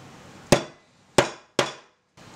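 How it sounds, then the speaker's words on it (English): Three sharp, loud hammer strikes on a punch drift the rear sight out of a Tanfoglio Witness pistol slide, each blow ringing briefly and then fading, with a fourth knock starting at the end. "So you're going to want to pound from this side to the side with the ejector."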